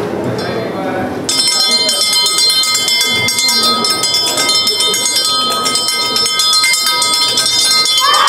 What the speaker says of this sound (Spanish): Tócales las campanas